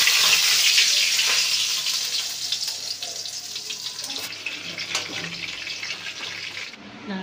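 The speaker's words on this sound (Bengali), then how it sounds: "তেলটা গরম হয়ে গেছে, এবার পটলগুলোকে একটু ভেজে নিই।" Pointed gourd (potol) pieces fry in hot oil, giving a loud, close, hissing sizzle that eases slightly over several seconds and is heard alone, with no speech.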